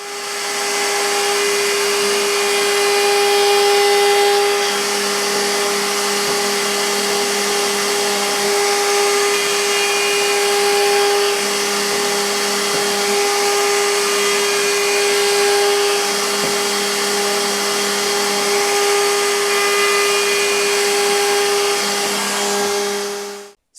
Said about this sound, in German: Und jetzt können wir es damit ganz einfach fräsen.